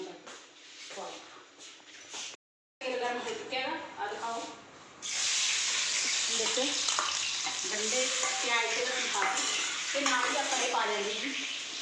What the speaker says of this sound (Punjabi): ਫਲੀਆਂ ਤੇ ਆਲੂ ਭੁੰਨਣ ਵਾਸਤੇ ਨਾ